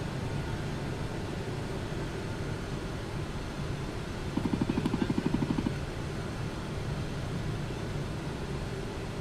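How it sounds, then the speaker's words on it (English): In Microsoft Flight Simulator 2024, a Falcon 50 lowers its landing gear with a brief, rapid mechanical buzzing rattle lasting about a second, set against the steady roar of the cockpit. "Gears on the way down."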